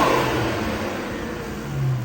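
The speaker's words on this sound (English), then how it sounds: "Let's get some revs in before I do" Infiniti Q60 Red Sport engine revving, a mid-pitched throttle blip that swells, eases and rises again, heard close and alone.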